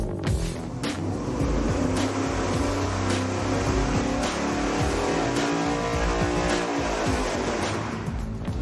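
An engine runs hard on a dyno with 12-inch ignition wire extensions, producing a loud, continuous roar that stays steady for several seconds alone.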